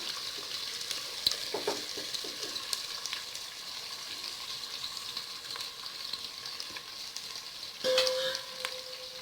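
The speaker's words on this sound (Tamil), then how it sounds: "வெங்காயம் நல்லா வதங்கட்டும், கோல்டன் ப்ரௌன் கலரில்." Onions frying in a pan until golden brown for country chicken biryani, a steady, moderate sizzle running the whole time, with occasional stirring knocks and a brief brighter hiss near the end; no talk.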